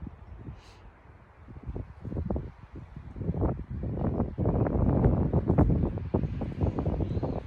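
Outdoors in a garden, a car on a nearby road swells in from a distance over wind noise, growing to a rough, broad rush that peaks near the end without fading fully away.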